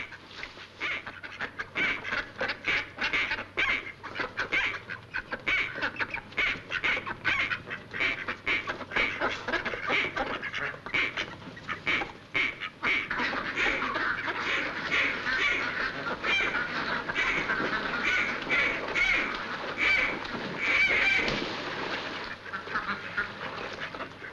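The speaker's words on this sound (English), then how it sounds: "Cut out that quacking." A flock of ducks quacking in an old slapstick comedy film soundtrack, many busy overlapping nasal quacks and honks continuing throughout, moderately loud and close, with no talk.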